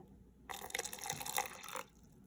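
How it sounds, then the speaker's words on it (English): Water splashes and trickles steadily into a cup for about a second and a half, close and fairly quiet, then stops. "And I'm going to pour some water in it."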